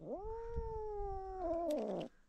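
A cat carrying a snake in its mouth lets out one long, drawn-out yowling meow lasting about two seconds, close and clear, with nothing else over it.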